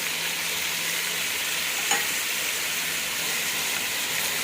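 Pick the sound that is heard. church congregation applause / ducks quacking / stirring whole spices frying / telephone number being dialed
stirring whole spices frying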